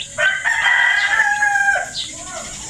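A bantam rooster on a small backyard farm gives one loud, close crow that rises and then trails off, followed by a brief cluck.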